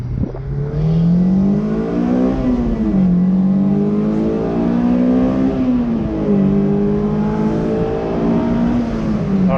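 A Honda S2000 with the top down pulls away slowly, its engine note climbing steadily through the gears in a smooth, loud, close rising drone with brief dips at each shift.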